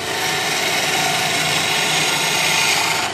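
A wood lathe turns a red oak walking staff while a tool cuts into the spinning wood, a loud, steady, dense grinding whir with no breaks.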